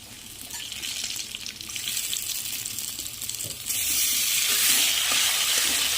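Potatoes fry and sizzle steadily in a pan, then the sizzle jumps louder and brighter as tomato is added, with no voices present.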